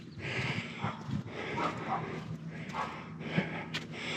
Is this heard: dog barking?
yes